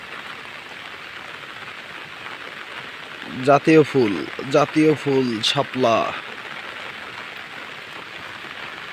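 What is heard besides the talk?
heavy rain falling in a village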